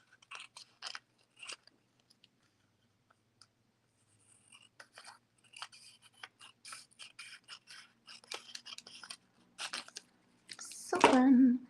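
Scissors snip paper strips for a junk journal, a series of sharp, crisp cuts scattered across the clip with a louder crunchy rustle at the end, up close and with no one speaking.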